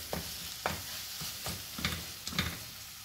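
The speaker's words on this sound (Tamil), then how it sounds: "இதுலேயே போட்டு நல்லா வதக்கிக்கலாம்" Food for mutton biryani sizzles in a hot pan while a utensil stirs and scrapes in short, repeated strokes, fairly close and moderately quiet.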